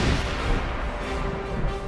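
An M777 howitzer fires, a loud broadband boom and roar filling the whole short stretch at close range with no voices over it.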